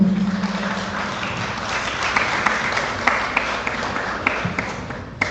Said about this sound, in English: put your hands together and give the Navy's Credit Union a massive round of applause